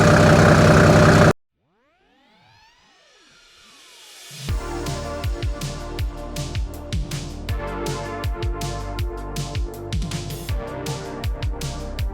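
After a brief loud burst and a pause, a Mercedes 190E W201's swapped-in OM606 diesel engine cranks up and idles roughly while cold, with a steady knocking chug close by.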